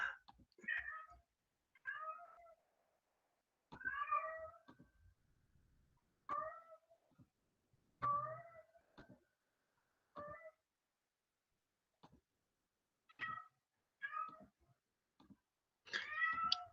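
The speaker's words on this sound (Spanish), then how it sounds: "Condenados gatos, todo el rato están así." Real cats meow again and again, with short, separate cries coming in irregular bursts across a quiet indoor room, fairly close and with silent gaps between the calls.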